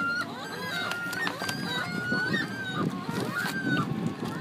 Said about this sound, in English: There's a seagull right behind you.